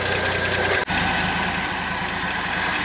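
International Stepside pickup engine idling steadily up close, a loud even low rumble with rhythmic knocking pulses and a brief dropout near the start.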